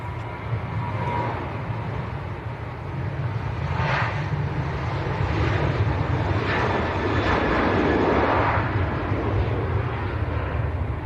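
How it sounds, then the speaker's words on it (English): Ryanair airliner on its takeoff roll at Leeds Bradford Airport, a steady loud jet engine roar with deep low rumble that swells gradually and holds, heard from a distance without voices. "Right, Ryanair on the roll."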